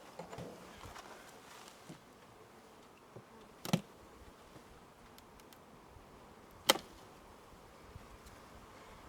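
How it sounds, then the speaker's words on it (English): Honey bees buzzing around an open beehive during a split hive inspection, a faint, steady hum close by with two brief louder passes of a bee near the microphone. "But I'm just looking at my bees."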